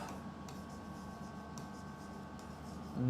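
Marker or chalk on a classroom board as a teacher writes out an English sentence, faint scratchy strokes coming in brief bursts over a quiet room hum.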